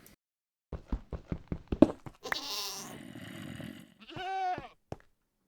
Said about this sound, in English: Those 2 sounds you heard were sounds by the goat man